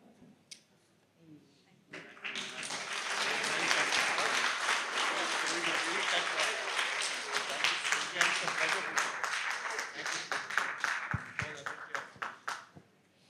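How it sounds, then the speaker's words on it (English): A lecture-hall audience breaks into applause after a brief quiet opening, the clapping swelling to a full, steady roar before thinning into scattered claps near the end. "A round of applause for her and all colleagues at Kothari Hall."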